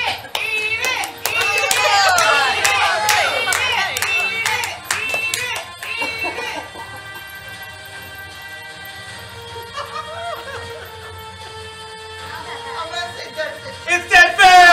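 Live game show studio audience cheering and clapping for a contestant eating a jelly bean, a loud burst of mixed voices and applause over the first several seconds, then settling into quieter crowd noise and chatter.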